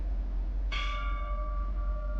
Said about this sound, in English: Surely I can ring the bell.